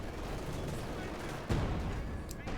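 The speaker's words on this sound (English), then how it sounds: "Same Stugi bombarding as well." StuG assault gun firing in Company of Heroes 2, one loud heavy boom over a dense rumble of ongoing battle, with a voice talking over it.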